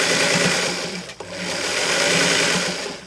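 A sewing machine stitching an elastic waist runs in a steady, loud, close whir, with a brief dip partway through before it continues.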